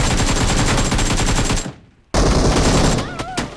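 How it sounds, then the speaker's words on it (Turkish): Rapid gunfire from a pump shotgun in the PUBG Mobile video game comes as a dense, loud burst of shots, cut by a brief silence, then another burst with a short game tone near the end. "Pompalı hardan tapdı bu?"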